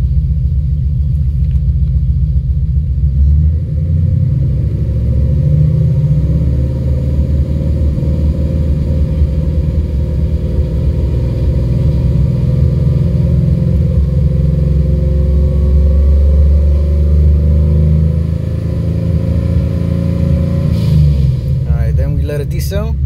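A car engine fitted with stage 3 camshafts runs and slowly climbs in revs from about 1500 RPM, giving a loud, steady low rumble that swells gradually, with a brief clatter at the end.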